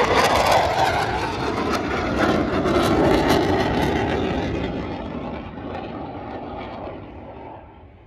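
An F/A-18 Hornet fighter jet flies past at the Swedish Armed Forces air show in 2022, a loud, steady roaring engine rush that slowly fades as it moves away.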